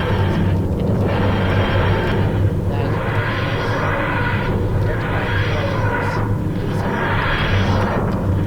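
Fixed-wing aircraft engine in the Garry's Mod sandbox game, throttled up into a loud, steady drone with a strong low hum and broadband roar that swells in waves throughout, with some speech-like sound mixed in.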